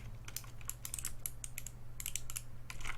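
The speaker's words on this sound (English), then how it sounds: "let's pop off a shift key" Keycap puller working a shift key off a Plugable compact TKL mechanical keyboard, a rapid run of sharp, close plastic clicks and small rattles over a low steady hum, with no talking.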